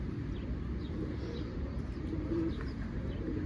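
Pigeons being flown outdoors give soft, low cooing and a few chirps, faint under a steady rumbling background.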